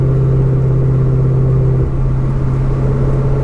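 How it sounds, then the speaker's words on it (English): A 900-horsepower Ford Mustang GT500 with a live axle, driven on the Tail of the Dragon road, its engine holding a loud, steady low drone that drops slightly in pitch partway through, close and continuous with no talk. "this is literally my first time driving a 900 horsepower car"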